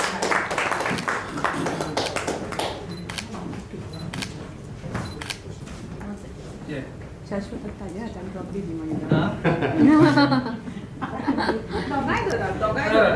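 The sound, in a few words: round of applause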